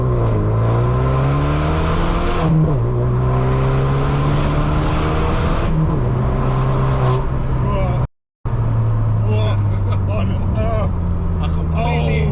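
A 335hp Vauxhall Astra J GTC VXR accelerates hard with traction control off, its engine loud and close as it climbs through the revs. The engine drops sharply at each gear change, cuts out for a brief silent gap, then pulls again.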